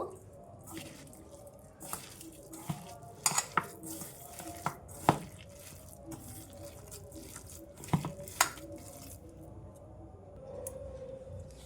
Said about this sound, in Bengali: এবার সব কিছু আমি ভালো করে মেখে নেব